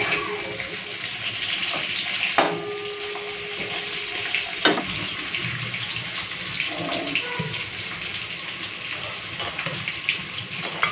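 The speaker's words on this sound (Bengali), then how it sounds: "এই যে তেলের মধ্যে দিয়ে দেবো নুন হলুদ মাখানো চিংড়ি মাছ।" Shrimp coated in salt and turmeric hits hot oil and fries with a loud, steady sizzle, with a few sharp clatters of utensils on the pan and a voice speaking faintly underneath.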